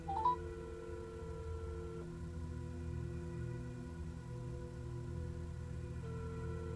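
A steady telephone ringback tone drones with a brief electronic blip at the start, no voices, just a low hum underneath.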